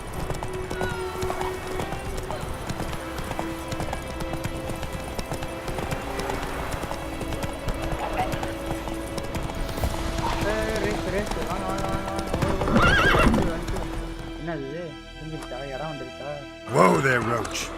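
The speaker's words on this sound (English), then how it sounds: "அதுல வர குதிரை மாறி கத்துது." A horse in The Witcher 3 video game: rhythmic galloping hooves run throughout, with neighs and whinnies rising near the end, mixed with game music and people talking over it.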